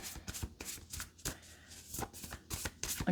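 A deck of tarot cards being shuffled by hand in several quick riffling bursts, crisp papery flutters close by and fairly quiet, with no talk.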